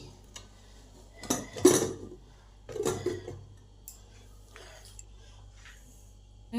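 A pressure cooker lid is pulled open after the steam has released, with tomatoes, potatoes and green bananas cooked inside. Two close metallic clanks with scraping rattles sound a second apart, then quieter handling clinks, with no talking.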